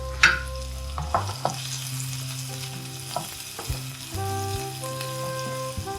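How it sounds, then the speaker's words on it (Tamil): Onion is sautéed in coconut oil, a loud close sizzle of frying with several spoon knocks and scrapes against the pan as it is stirred, with no talking. "கொஞ்சம் வெங்காயம் போட்டுக்கலாம் இது நல்லா வதங்கட்டும்"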